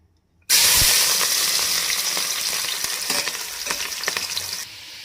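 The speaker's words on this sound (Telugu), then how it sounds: "ఆయిల్ అయితే వేడైంది వేడైంది ఇందులో మొదటగా ఆనియన్స్ ఫ్రై చేసుకుందాము" Onions frying in hot oil for mushroom biryani, a loud, steady sizzle that bursts in suddenly and crackles continuously with small pops, easing off slightly toward the end.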